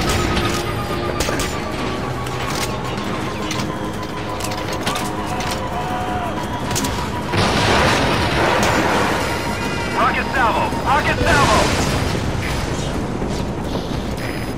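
Rocket salvo explosions in Metal Gear Solid V crash through dense, noisy combat, with a thick rumbling burst of blasts and debris building over a constant mechanical drone, while voices come through the din.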